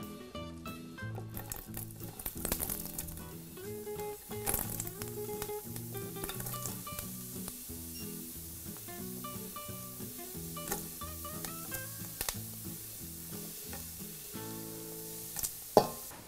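Bell peppers sizzle in a very hot, dry saucepan with no fat, a faint steady hiss and crackle under louder background music.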